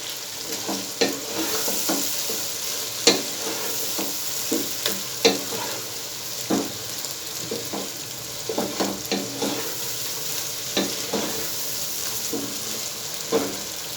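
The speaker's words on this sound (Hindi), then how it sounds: "इसको इसमें हम अब थोड़ी देर फ्राई करेंगे मगज़ को इस मसाले के साथ" Beef brain frying with spice masala in a pan, a continuous sizzle broken by repeated scraping stirs and spoon knocks at an irregular pace, close and fairly loud.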